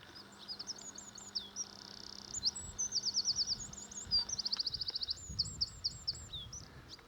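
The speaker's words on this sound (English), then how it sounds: "The most powerful voice in the bird world, little wren singing away." A wren sings loud, rapid trilling phrases in repeated bursts, close and clear against a faint outdoor background on a coastal walk near Selworthy Beacon.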